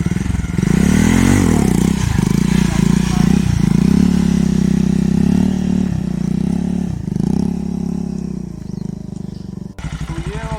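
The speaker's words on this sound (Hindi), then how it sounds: "क्लच झटके से छोड़ूंगा, एक्सीलरेटर दे के रखूँगा और क्लच झटके से छोड़ना है। Leg drag wheelie" Motorcycle revving hard during a leg drag wheelie stunt, loud and close, its engine surging up and down in repeated throttle blips before dropping off to a brief, rough putter at the end.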